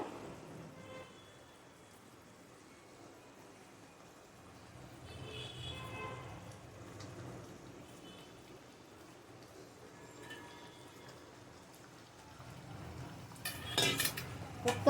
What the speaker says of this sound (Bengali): এবার আমি এর মধ্যে কোপ্তাগুলো দিয়ে দেবো